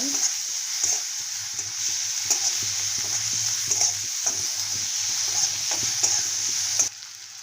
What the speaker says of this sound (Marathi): आपला घरचा काळा मसाला हा गरम मसाला हे असं मस्त परतून घेते